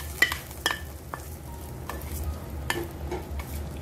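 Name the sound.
tempering poured into buttermilk kulambu, sizzling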